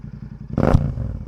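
A Royal Enfield GT650 motorcycle fitted with an aftermarket Moto Torq exhaust idles with a steady low thump, then blips into one short, loud rev that quickly falls back to a rumbling idle, heard up close.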